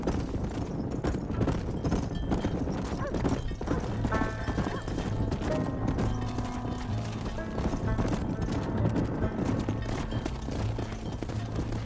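A herd of horses is driven into a pen in the Western video game Red Dead Redemption, many hooves clip-clopping in a steady dense patter throughout, with occasional neighs and a low background score.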